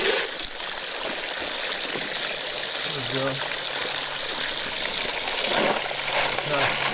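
Water sloshing and trickling during test gold panning at a creek in North Georgia, a steady wet swirl with a short spoken remark over it.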